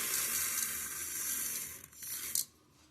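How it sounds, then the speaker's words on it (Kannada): Rice and toor dal are washed in water for bisi bele bath, a continuous hissing stream of running water with a splashy swirl near the end, close and fairly quiet. "ರೈಸ್ ಮತ್ತು ತೊಗರಿ ಬೇಳೆ ಚೆನ್ನಾಗಿ ವಾಶ್ ಮಾಡಬೇಕು"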